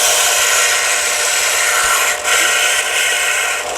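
A Central Machinery 4 by 36 inch belt and 6 inch disc sander grinds with a loud, steady, broadband abrasive whir, close up, with a brief dip partway through and no voices.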